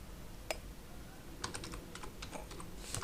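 Keys clack on a computer keyboard during typing into a WordPress dashboard form, a few sharp isolated taps followed by a quick burst of keystrokes, close and moderately loud over a low background hum.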